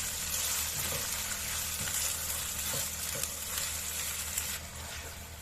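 Ginger and chopped tomato sizzle in a pan of spices for a mixed vegetable dish while a utensil stirs them now and then with light scrapes. The frying hiss is steady and close, with no talking.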